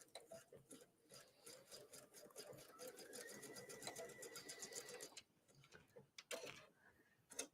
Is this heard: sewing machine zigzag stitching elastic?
yes